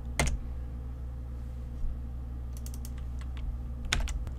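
Keys clack on a computer keyboard during spreadsheet work: a short burst of light, close keystrokes near the start, then a quick flurry of taps toward the end over a steady low hum.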